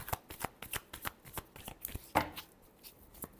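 A deck of tarot cards is riffled and shuffled in quick repeated bursts, a dense run of crisp flutters and slaps close up with one louder snap near the middle, and no one talking.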